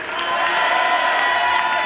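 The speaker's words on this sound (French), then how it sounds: "Merci, on peut les applaudir." An audience at a live show of the game Gang Beasts cheers and applauds together, a dense, steady wash of crowd noise with whoops, loud and continuous throughout.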